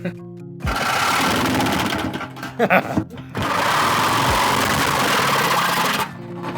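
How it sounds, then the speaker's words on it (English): A reciprocating saw (Sawzall) chews through a metal bucket in two long, loud, steady bursts with a brief rattling pause between them. "Of all the times I've used a sawzall, this is one."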